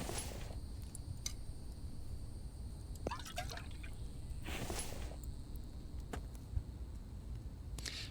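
Water topping up in a survival video game set in a lab, heard as soft dripping and trickling over a steady hissing background, with a few brief splashy bursts.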